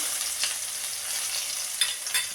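Crushed chili and garlic frying for a homestyle beetroot rasam, a steady close sizzle with a couple of sharp stirring scrapes near the end.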